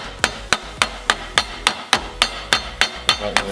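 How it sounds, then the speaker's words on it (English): A heated hammer gently taps metal on a dolly during a Ford RS200 body rebuild, a steady series of about a dozen sharp, ringing strikes, close up and evenly spaced, with no voices. "Very gentle taps."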